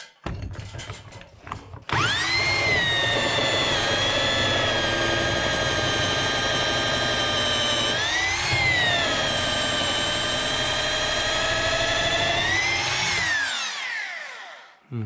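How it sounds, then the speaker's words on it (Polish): A power drill whines at high speed through wood, loud and close, its pitch dipping twice under load before spinning down. "Zrobimy to wiertarką."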